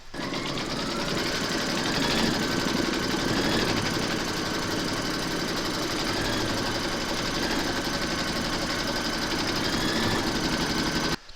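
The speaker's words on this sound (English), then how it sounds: "Pop your hoop into your machine and stitch round number 2 to secure it." An embroidery sewing machine stitches the second round of a large appliqué letter through fabric and batting in a hoop, giving a steady, loud, close mechanical whir with fast rhythmic needle pulses that runs unbroken throughout, with no voices.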